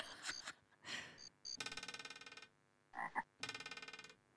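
Springy, frog-like noises from the Zoombinis puzzle game: short bursts followed by two rapid ratcheting boings, fairly quiet, with no talking over them.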